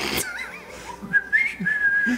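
Someone whistles the cheery, fast-paced Three's Company theme song, a clear, close melodic line with a few quick notes between short pauses.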